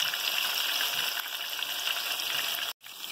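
Fish pieces frying in a pan for fish curry, a steady, fairly loud hiss of hot oil running continuously, broken only by a brief silent dropout near the end.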